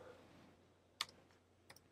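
A few faint, sparse keystrokes on a computer keyboard while a command is entered in the Betaflight CLI, with one sharper click and a couple of softer taps in a quiet room.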